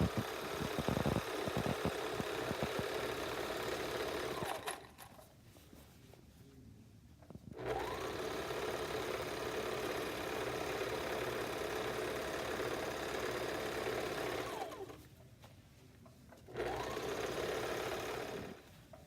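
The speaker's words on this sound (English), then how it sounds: "I'm going to show you how to serge the sides and do it in a chain to save thread and to save time" A serger overlock machine chain-stitches the sides of PUL fabric pieces in two long, steady runs of rapid mechanical whirring, separated by short quiet pauses while the fabric is repositioned.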